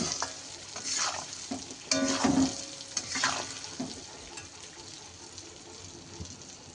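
Ground spices go into hot oil for a raw mango pickle and get stirred, giving a steady close sizzle with scraping spoon strokes and a louder burst of frying around two seconds in, with no talking.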